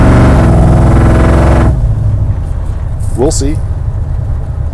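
Classic car engine with loud mufflers roars with a heavy, harmonic-rich drone, then drops abruptly to a low idle-like rumble while someone speaks briefly.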